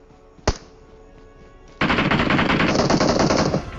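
Machine gun fire in a video game: a single sharp shot, then a sustained loud rapid burst of automatic gunfire lasting about two seconds.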